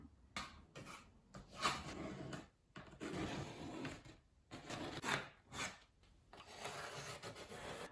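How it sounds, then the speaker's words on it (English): A No. 2 Ticonderoga pencil scratches and rubs across a wooden floorboard for an MG TD restoration, in close bursts of rasping strokes separated by short pauses, with no talking. "Here is my number 2 Ticonderoga. I'm going to start drawing."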